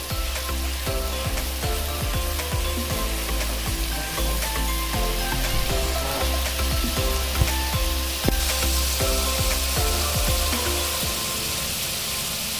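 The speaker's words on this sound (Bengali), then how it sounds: "দেব পেস্ট করে রাখা পেঁয়াজ। পেঁয়াজ নাড়িয়ে নেব।" Onion paste sizzles loudly in oil in a wok for chole, with the spatula stirring and scraping in a continuous crackling, spitting hiss that stays close and unbroken throughout.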